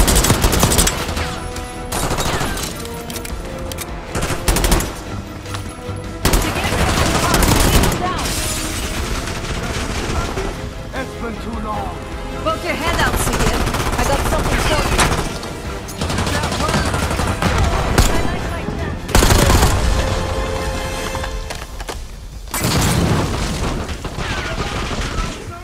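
Dense, sustained gunfire from rifles and machine guns in a Call of Duty: Black Ops 6 Gulf War battle, with rapid bursts and booming blasts running nearly nonstop and shouting voices mixed in.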